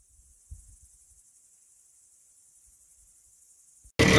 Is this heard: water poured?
no